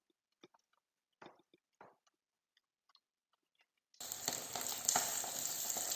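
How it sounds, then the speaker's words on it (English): Fresh crushed garlic dropped into hot oil in a pan for pan-fried sea bass: a few quiet ticks and pops, then a sudden loud, steady close sizzle that continues alone. "I'm adding fresh crushed garlic on oil to flavor the fish."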